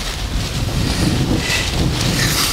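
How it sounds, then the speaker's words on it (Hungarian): Strong wind roars across the microphone at a high mountain lookout facing the Tatra peaks, a loud, continuous buffeting rush with gusty swells and no voices. "elég erős a szél"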